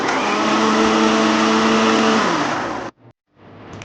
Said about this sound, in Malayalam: അപ്പോൾ നമുക്ക് ഇതൊന്ന് മിക്സിയിലിട്ട് അടിച്ചെടുക്കാം.